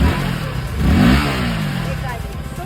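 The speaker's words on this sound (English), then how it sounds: "So it is a very soothing, a very connecting exhaust sound." A KTM RC 160 motorcycle exhaust revs once, swelling to a short peak and then settling into a rough mid-pitched idle, heard at a riders' track day under a voice speaking.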